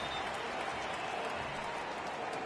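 A baseball stadium crowd in the MLB 18 video game rises and cheers on a full 3-2 count, a steady, distant roar of cheering and clapping at a low level with no voices distinct.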